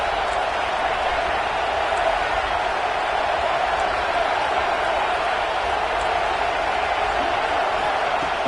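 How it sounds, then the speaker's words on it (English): A football stadium crowd at an Indiana vs LSU game roars continuously as the defense tries for a goal-line stop, a dense, steady wall of cheering and whooping from start to finish with no clear break. "the crowd really making some noise now, trying to help out this defense to get this stop near the goal line"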